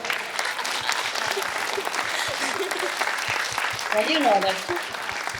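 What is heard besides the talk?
audience clapping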